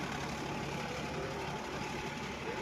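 A tractor engine runs steadily with a cultivator ploughing a farm field, a continuous low rumbling drone with broadband mechanical noise, close and loud, no voices.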